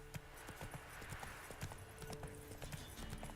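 Roach the horse's hooves in The Witcher 3 game: a quiet, steady clip-clop trot with regular hoof strikes over a soft background.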